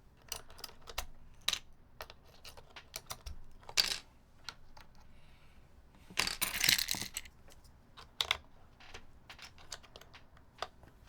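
Someone types on a mechanical keyboard fitted with PBB keycaps, making irregular clacky keystrokes in quick bursts with a few louder clusters over a quiet background.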